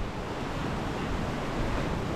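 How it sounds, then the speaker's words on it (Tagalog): Swollen river water rushes out toward the sea after a typhoon beside flooded fishponds, making a continuous broad, rushing roar with no voices. "So ito, running water,"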